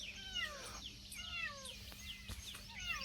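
A small kitten in a farm field gives several high, thin meows one after another, fairly close. Steady background noise and faint bird chirps run underneath.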